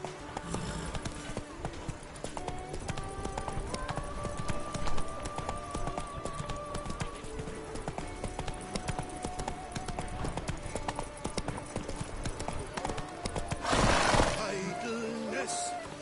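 Hooves of the horse Roach clip-clop steadily at a walking pace in The Witcher video game, continuous and fairly close under game music and spoken dialogue, with a brief rustling burst near the end.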